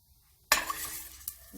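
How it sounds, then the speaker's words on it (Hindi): Chopped onions dropped into hot oil for a fish curry, bursting into a sudden close sizzle after a moment of quiet, with a light clink of a utensil against the pan as the hiss continues. "ये अब जाएगा ऑयल के साथ डालूंगी मैं ऑनियन।"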